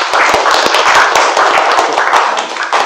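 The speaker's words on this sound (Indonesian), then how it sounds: "Beri tepuk tangan dulu." A classroom of students claps together in an Indonesian school lesson, brisk and fairly loud close-up clapping with some irregular individual hand slaps over a short burst.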